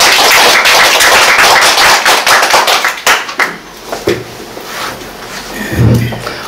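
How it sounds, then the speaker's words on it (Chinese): Audience clapping welcomes lecturer Yang Zhisheng at a philosophy talk on the birth of aesthetics: a dense, loud burst of applause for about three seconds, thinning into scattered claps and then quieter room sound with some voice. "那我们一起掌声欢迎杨植胜老师"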